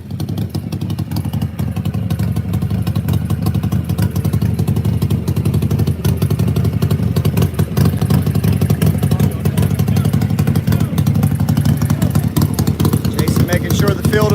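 Modified Harley Davidson or turbocharged Suzuki GSX-R drag motorcycle at an Xtreme Drag Bike Association event at Rockingham Dragway, its engine a loud, steady rumbling drone held throughout with a clattering edge, close by.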